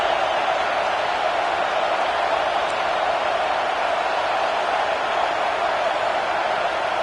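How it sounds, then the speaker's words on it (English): A loud, steady roar from a packed stadium crowd at a Clemson football game, a dense, unbroken wall of noise that holds at full strength from start to finish. "This crowd trying to make life miserable for this offense."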